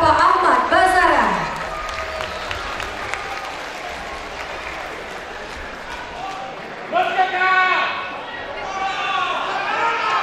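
Audience applause at an event with a guest: a burst of clapping up front, then a murmuring crowd, with a voice speaking over it and another round of clapping near the end.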